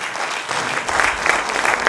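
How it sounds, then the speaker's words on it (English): Audience applause at a Caribbean tourism event, a steady dense clapping from a large crowd that swells slightly toward the end, with no talk over it. "Give him another round of applause, please."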